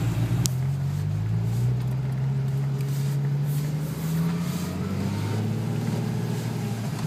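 Porsche 997.2 911 Turbo on the road, its engine a steady low drone that slowly rises in pitch as it accelerates, heard from inside the car with no talking.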